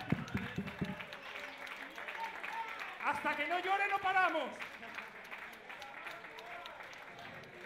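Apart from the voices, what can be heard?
audience applause at a concert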